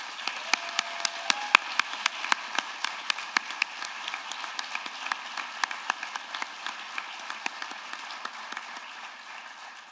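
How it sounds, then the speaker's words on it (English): An awards-ceremony audience applauds recipients with a sustained round of dense clapping from a sizeable crowd, individual sharp claps standing out before it slowly thins. "Can we give all of our recipients another round of applause?"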